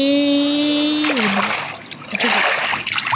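A Minecraft player drops into water: a steady electronic game tone ends and a short splash follows, then softer watery sloshing and patter at close range.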